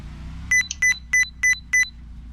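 Five evenly spaced electronic beeps from a pit lane excessive speed warning in an oval racing video game, sharp and clear over a low engine hum.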